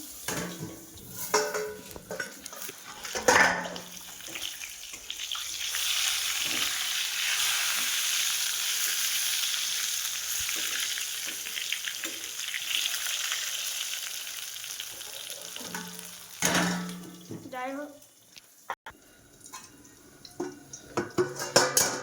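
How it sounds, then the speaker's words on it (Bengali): Eggplant slices fry in hot oil in a home kitchen, giving a steady, close sizzle that lasts most of the stretch, with utensil clinks and scraping at the start and end. "বেগুন ভাজবো বেগুনটা একটু ঢাকা দিয়ে দিই"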